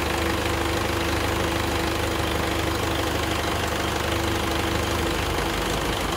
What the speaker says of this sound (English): So you can see it was running a little bit rough, that's from the spray.